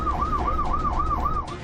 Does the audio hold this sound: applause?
no